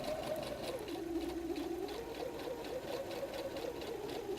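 A sewing machine stitches the side line of a messenger bag pocket flap, a soft, even run of rapid needle strokes with a slight pitch shift midway, heard close and quiet without talk.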